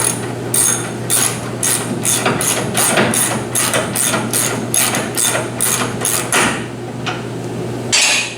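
Repeated metal hammer blows on a truck fender during a custom rear bumper build on a Ford Ranger chop top, a steady rhythm of about a dozen sharp ringing strikes over a constant low hum, with a brief pause near the end.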